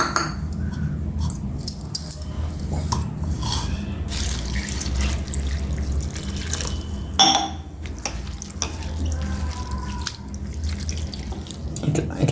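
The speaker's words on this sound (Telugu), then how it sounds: "ఒక కప్పు అటుకులు తీసుకొని మనము ఫ్రెష్గా కడుక్కోవాలండి." Flattened rice (poha) is washed by hand in a bowl of water, with continuous sloshing, splashing and dripping close by, plus a few sharper clinks and one louder splash midway.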